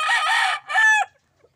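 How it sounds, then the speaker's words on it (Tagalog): A pet rooster crows close and loud, two strong bursts with a short gap, then quiet. "Maganda po yung mga alaga niyang manok."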